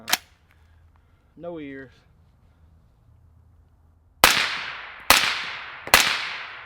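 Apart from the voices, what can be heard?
suppressed 5.56 rifle shots, Black Anchor Tactical Nautilus suppressor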